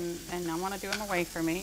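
Shrimp sizzle in oil on a hot Himalayan salt block at a pizzeria and wine bar, a steady hiss of frying heard under a person talking close by.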